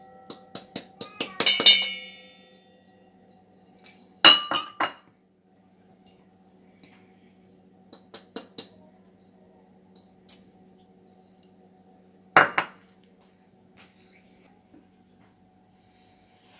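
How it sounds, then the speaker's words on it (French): Gingerbread batter of white and rye flour, yeast, brown sugar and zest being mixed in a bowl with a spatula, with a few sharp clinks and scrapes in short bursts separated by quiet pauses. "Mélange à l'aide d'une maryse."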